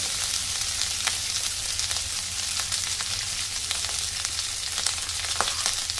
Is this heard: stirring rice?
yes